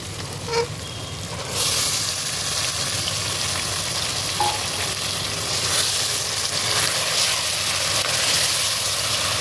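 Soaked, marinated chicken drops into frying masala for chicken pulao, bringing a sudden surge of steady, close sizzling that continues evenly after a brief clunk, with a low background hum.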